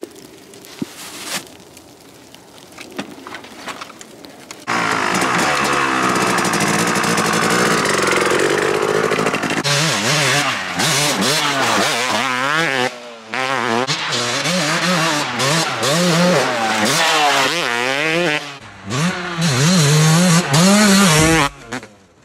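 A Yamaha YZ250 two-stroke dirt bike idles faintly, then roars into a loud, buzzing ride with repeated rising and falling throttle sweeps. It briefly drops off as the rider shifts and blips, close to the microphone.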